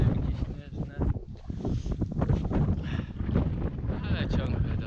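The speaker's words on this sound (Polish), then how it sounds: "Wiatr, zadymki śnieżne." Strong wind gusts roar and buffet the microphone in a snowstorm, with muffled voices talking underneath.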